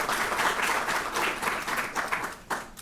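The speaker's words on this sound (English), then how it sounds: "let's just give them a round of applause" Audience applause at a panel event on students' rights, a steady wash of clapping from a room full of people that holds for the whole stretch, with a brief louder burst near the end.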